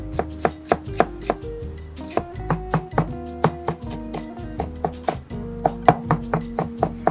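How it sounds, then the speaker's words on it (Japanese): A knife finely minces onion for curry paste on a cutting board, with rapid, loud, even chops in a steady rhythm and a few short pauses, and no speech. "これに使う玉ねぎを切っていきます。 まあ、これはみじん切りにしていきます。"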